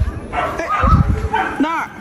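A person's voice imitates a dog barking with a short series of close, playful woofs and yips that rise and fall, while a faint background hum runs underneath.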